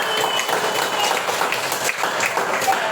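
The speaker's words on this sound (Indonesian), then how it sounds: "Beri tepuk tangan untuk Felita dan Sofi." Students in a classroom clap together in steady, dense applause that lasts throughout, close and fairly loud with no other sounds standing out.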